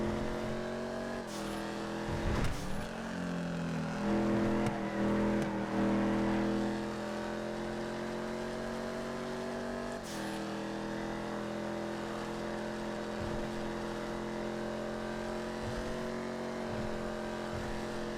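Hot Knife car engine in GTA FiveM, a steady buzzing drone with rising and falling pitch as the car shifts and revs around a track, loud and continuous with a brief surge of acceleration early on.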